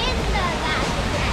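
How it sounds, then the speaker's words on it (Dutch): Waterfall at Center Parcs Erperheide, a steady broadband rush of falling water filling the short moment, with no talk over it. "ik zie daar een waterval"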